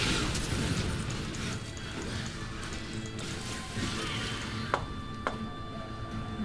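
Tristana, the League of Legends champion, firing from the back line amid chaotic game combat: a dense wash of crashes and impacts with two sharp pops standing out near the end.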